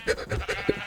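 Sheep in a video game let out short, close bleats, a quick run of wavering calls within a second.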